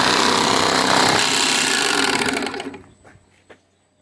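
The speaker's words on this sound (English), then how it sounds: "we're going to go ahead and do a second stitch." Industrial bag sewing machine stitching a bag closed on a sewing line, a loud dense mechanical chatter running steadily for about two and a half seconds, then stopping, followed by a few faint clicks.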